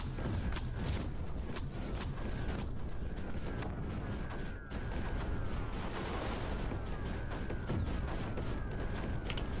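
Cannons and mortars fire in the strategy video game Creeper World 4, a dense, continuous barrage of overlapping shots and blasts with no pause throughout.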